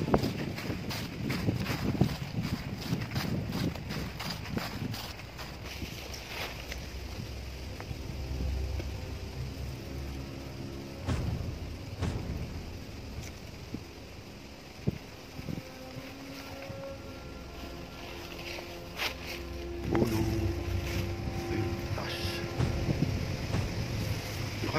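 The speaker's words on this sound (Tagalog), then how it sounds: "Lakas ng hangin." Strong wind buffets the microphone in a park in Poland, a continuous rough roar with gusts and thumps rising and falling, plus scattered rustling and handling noise.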